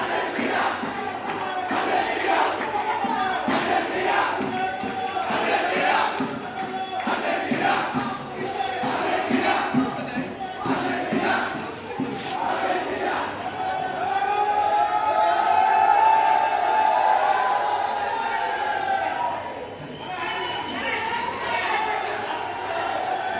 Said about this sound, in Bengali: ঢাকা বিশ্ববিদ্যালয় স্যার এফ রহমান হলে আর্জেন্টিনা এবং ব্রাজিলের মুখোমুখি সংঘর্ষের মিছিল